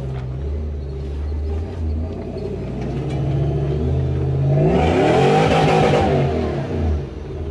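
A supercharged Toyota Hilux 106 drives off-road in two-wheel drive, its engine rumbling steadily then revving harder and louder midway as it pushes along a wooded track, with no talk.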